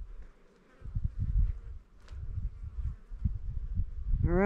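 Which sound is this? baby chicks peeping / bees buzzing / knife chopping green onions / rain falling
bees buzzing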